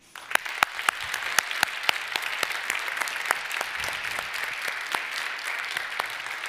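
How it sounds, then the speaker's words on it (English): Audience applause for contributors at the closing panel of a health summit in Uppsala: steady clapping from a moderate-sized crowd with a few sharp, close claps standing out, sustained throughout. "So I ask you to join me in an applause for all the people that have contributed."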